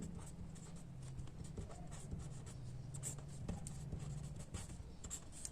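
Chalk or a marker taps and scratches on a board in a classroom physics lesson on work, energy and power, producing faint, irregular close strokes.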